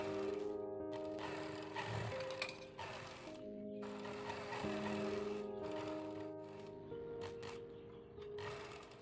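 A sewing machine stitches a ladies' pocket undershirt in long runs of fast, even mechanical whirring, with brief pauses between runs, heard close and without talk.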